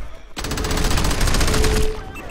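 Sustained automatic gunfire from the video game Crackdown rattles in a dense, rapid burst for nearly two seconds, loud and close, starting abruptly and cutting off near the end.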